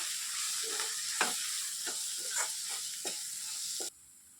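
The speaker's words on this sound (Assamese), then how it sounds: "এতিয়া মোৰ এই মছলাখিনি ভজা হৈ গৈছে।" Ground spices, including chilli powder and cumin powder, frying in a pan for a banana stem and chicken dish: a steady close sizzle broken by several soft stirring scrapes, ending abruptly.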